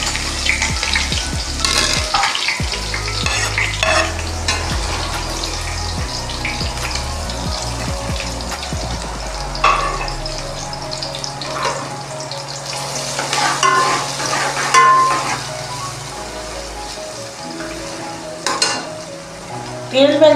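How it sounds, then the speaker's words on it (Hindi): Finely chopped medium onion browns in oil in a pan, with a busy sizzle, frequent stirring clatter and scraping, and a few brief splashy bursts. "अब हम इसमें अपनी प्याज ब्राउन करेंगे।"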